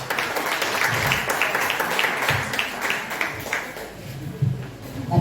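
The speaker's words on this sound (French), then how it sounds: "On peut les ovationner s'il vous plaît." Audience applause breaks out at an Easter celebration gathering, a steady wash of clapping hands lasting several seconds with a few louder bursts and faint voices mixed in.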